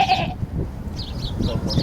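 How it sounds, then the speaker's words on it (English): Goats crammed inside a car bleat loudly and close by, with a sharp call at the start followed by several shorter wavering bleats over the low rumble of the vehicle. "There's many goats in this car."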